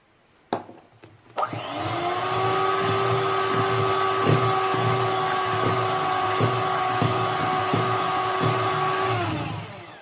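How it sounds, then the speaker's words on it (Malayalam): An electric beater whirs through carrot and date cake batter with a quarter cup of oil added. A few sharp clicks come first, then a loud, steady motor drone runs close by for about eight seconds and cuts off. No one talks. "അടുത്തത് നമുക്ക് 1/4 കപ്പ് ഓയിലും കൂടെ ഒഴിച്ച് ഒന്ന് ബീറ്റ് ചെയ്താൽ മതി"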